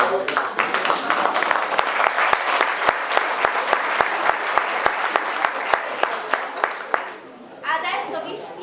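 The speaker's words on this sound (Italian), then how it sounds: "Ci vuole un altro applauso." Audience applause at a community Christmas gathering, a room full of clapping with some sharp, distinct claps standing out, tapering off as a voice starts talking near the end.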